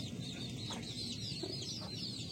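Chickens and small chicks cluck and peep on a farm with wooden perches, soft repeated calls scattered over a steady low background hum, fairly faint and at a middle distance.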